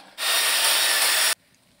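A single saw or rasp stroke cuts through a board for a dry screed floor installation, one loud, close, rasping burst lasting about a second before dropping to quiet.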